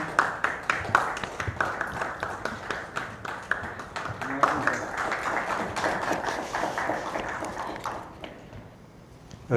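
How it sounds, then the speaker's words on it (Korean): Audience at a Korean election-fraud lawsuit briefing applauds as a speaker comes forward, a crowd of hands clapping steadily for about eight seconds before trailing off into quiet. "우리 앞으로 나와주실 때 박수 부탁드립니다"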